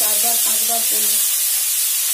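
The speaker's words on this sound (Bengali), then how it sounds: "এবার আলুটাকে এখানে ভাজবো" Potatoes fry in hot oil with black cumin in a pan, giving a loud, steady sizzling hiss close by while someone speaks briefly over it at the start.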